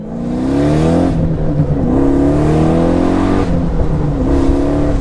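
A sports car of under 3,000 pounds with 550 horsepower revs hard and accelerates, its loud, close engine note climbing through repeated gear changes with no talking.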